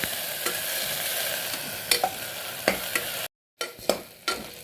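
Onions sautéing golden in a pan for vegetable biryani give a steady soft sizzle, broken by a few sharp stirring scrapes and one brief silent gap near the end.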